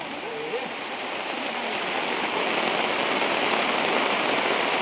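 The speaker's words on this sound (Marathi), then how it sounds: "वरनं डोंगरातनं पाणी वाहत आहे खाली दिसते रे धबधब्या" Water streams down a mountainside in a rural hill setting, a steady broadband rush like a waterfall or heavy runoff, continuous and fairly loud throughout with no breaks.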